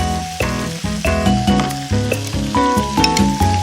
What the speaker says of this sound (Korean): 양념장도 한번 살짝 볶아주셔야 돼요